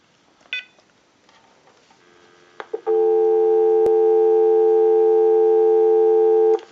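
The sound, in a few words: telephone dial tone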